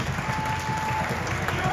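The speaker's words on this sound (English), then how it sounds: "Give Mike a round of applause" Audience applauding for a speaker named Mike at a talk on managing mental health and self-care, a steady dense wash of clapping with murmuring crowd underneath throughout.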